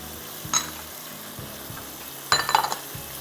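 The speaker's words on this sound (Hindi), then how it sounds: "थोड़ा सा कड़ी पत्ता हम सौटे करेंगे" Curry leaves sautéing in a pan, a soft steady sizzle with a couple of sharp clinks of a utensil against the pan, close and clear with no talking.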